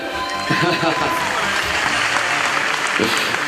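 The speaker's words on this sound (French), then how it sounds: "vous pouvez l'applaudir" A live audience at a Gang Beasts gaming show applauds with steady, dense clapping across the whole stretch, while voices talk over it.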